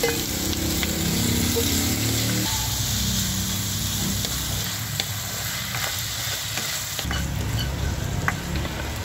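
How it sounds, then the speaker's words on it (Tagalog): Garlic, onion and marinated pork stir-fry in a hot pan with a loud, continuous sizzle, punctuated by clinks and scrapes of a stirring utensil. The sound stays close and fairly steady throughout. "Lalagay na natin guys yung ating bawang, sibuyas, yung ating pork na minarinate kanina"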